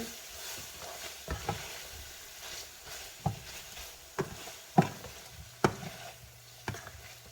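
Meat frying in a pan is stirred with a utensil, producing a steady soft sizzle broken by irregular scraping knocks against the pan. No one speaks.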